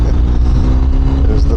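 BMW R 1250 RS motorcycle shifting into second gear at about 4,000 rpm, a loud, steady engine drone heard close up with wind rush and no clear break in the sound.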